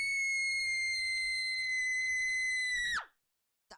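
A scream effect for a card game, a sustained high synthetic shriek held steady for about three seconds, then sliding sharply downward and cutting off, with a brief blip after the silence.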